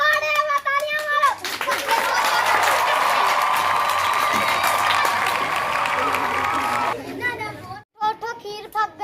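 An audience claps in sustained applause for about six seconds, a dense steady patter, with children's voices talking just before and after.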